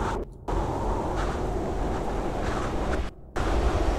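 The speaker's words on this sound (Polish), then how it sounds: "to wiatr" Wind blows steadily in the dark forest of the video game Kholat, a loud, broad rushing roar that cuts out briefly twice before resuming.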